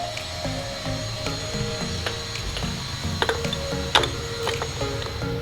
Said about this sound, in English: we're going to use the medium wrench to take off the back wheel